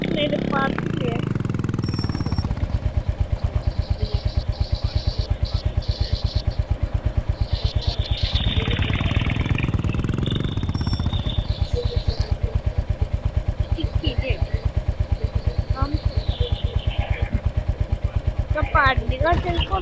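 A motorcycle ridden in to park, its engine chugging steadily up close with a revving surge in the middle, clattering and puttering throughout.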